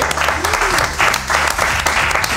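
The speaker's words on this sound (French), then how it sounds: "on peut applaudir l'équipe gagnante" A quiz show audience applauds the winning team, a loud, dense burst of clapping that swells in waves, with voices and cheers mixed in over it.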